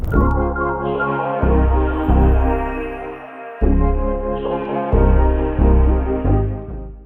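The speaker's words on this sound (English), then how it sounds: "Simple drums, some wavy chords with some good vibes." A slow, mellow hip-hop beat with deep bass hits and warm, sustained chords rolling over simple drums, loud and continuous.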